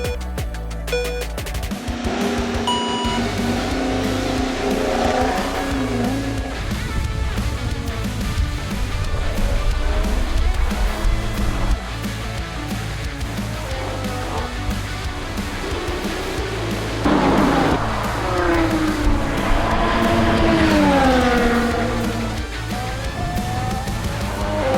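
A Formula One race car laps a circuit, its engine a loud, continuous high-pitched whine that rises and falls through gear changes and corners for the whole stretch.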